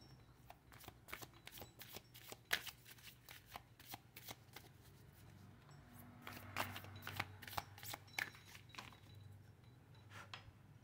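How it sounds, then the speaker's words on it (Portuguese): A Cigano Lenormand-style card deck is shuffled by hand, giving quiet, crisp riffling flutters and taps that repeat in an uneven rhythm close up, with no one speaking. "Eu vou tirar as cartas aqui agora para complementar com o baralho cigano."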